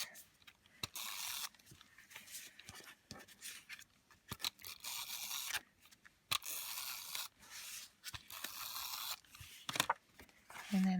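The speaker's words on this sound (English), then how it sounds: "So I'll put a little tape runner on the back of this." A tape runner rolls adhesive onto the back of a card panel in a series of short, close scraping and ratcheting strokes separated by brief pauses, with no voices.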